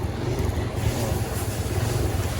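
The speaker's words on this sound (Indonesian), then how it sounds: "Motornya sekarang kita lagi lakukan check sound dan suaranya itu udah kembali halus banget nih guys." A restored Yamaha Vega motorcycle engine idles steadily and smoothly up close, a continuous low rumble with faint wind noise over the microphone and no talking.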